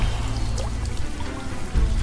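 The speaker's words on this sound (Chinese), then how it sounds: "无数雨滴砸向水面，泛起的波纹相冲抵消" Countless raindrops strike a water surface in an animated series, a dense steady pouring patter heard close and loud with no talk, swelling slightly at the end.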